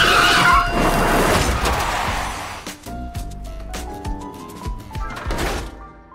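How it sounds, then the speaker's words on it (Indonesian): A truck slams into a car in a dramatic crash effect: a loud rushing skid and impact, followed by scattered thuds, clanks and ringing debris that settle and then flare again. "tiba-tiba, sebuah truk menabrak mobil mereka dan mengakibatkan mereka cedera"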